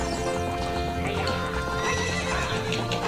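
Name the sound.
horse neighing in video game Zelda Ocarina of Time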